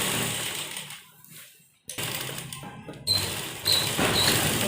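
A sewing machine stitches along a blouse neckline strip in short bursts, stopping and starting with brief pauses between runs of fast, even whirring.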